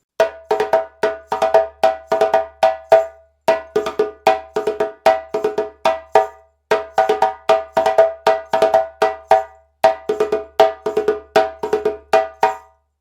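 A djembe solo phrase from the Warabadon rhythm repeats in four rapid rolls, mixing sharp, ringing slaps and rounder open tones in fast clustered strokes, loud and close with brief gaps between phrases and no voices.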